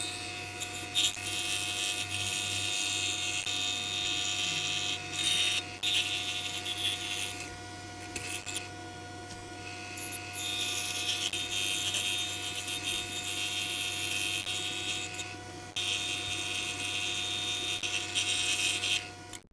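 A high-pitched scroll-saw-style whine from a number 3 modified geometry blade runs steadily for the whole stretch, cutting through wood with brief dips where the blade eases off, fairly loud and close.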